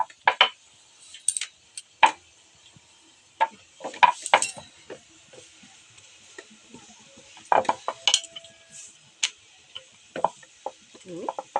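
Fata paratha dough is being rolled out with a rolling pin, heard as sparse, crisp knocks and taps of the pin and board in irregular bursts over an otherwise quiet room.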